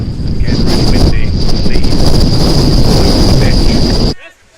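Strong gusting wind buffets the microphone at an outdoor field hockey match, a loud, constant low rumble with a steady high whine running through it, before it drops away abruptly at the end.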